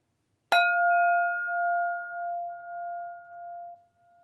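A single bell is struck once, ringing out clearly with a long, pure tone that slowly fades over several seconds.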